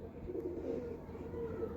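Pigeons being handled give a faint, low, rolling coo that runs on softly and continuously at close range.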